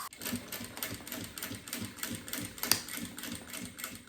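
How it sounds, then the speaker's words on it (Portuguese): Sewing machine stitching bias binding onto a clear plastic pencil case, a fast, steady mechanical rattle of the needle running continuously up close, with no talking. "agora eu vou passar a costura na bordinha do viés para prender no plástico"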